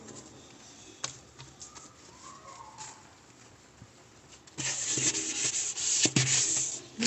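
A yellowed refrigerator part gets scrubbed by hand, starting with soft, intermittent rubbing and then turning into louder, vigorous back-and-forth scrubbing partway through, close up and with no voices.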